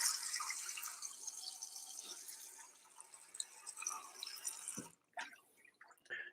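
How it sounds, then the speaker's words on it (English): Water splashes and patters into a cooking pot fitted with a steaming rack, a faint, hissy stream in a kitchen that breaks off near the end into a few scattered drips and clinks. "So I just fill it with a little bit of water on the bottom."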